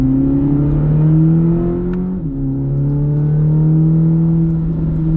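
A Chevrolet Corvette ZR1 engine hums close and loud at a steady moderate pace on the Circuit of the Americas track, with a brief drop in pitch at a shift before settling back into a smooth drone.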